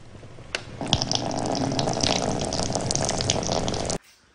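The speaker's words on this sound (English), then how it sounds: "It's running water." Steady broadband rush of water from a tap running in an abandoned bar and restaurant, starting with a couple of knocks and flowing continuously before cutting off abruptly near the end.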